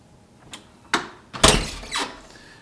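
A hotel room door in a Las Vegas resort is opened and shut: several separate handle clicks and thuds, building to one heavy slam followed by a softer latch knock, with no talk.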